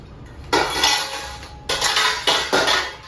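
Washed metal pots and dishes set down to dry, giving three loud clattering bursts of clanking metal and clinking in quick succession, with no speech.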